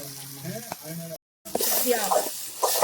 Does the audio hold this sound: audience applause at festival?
no